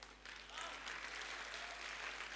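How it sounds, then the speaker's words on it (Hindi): Sparse, half-hearted applause from a seminar audience at a Hindi business talk, steady and fairly faint across the whole stretch, with no voices over it. "ऐसी मरी हुई तालियां"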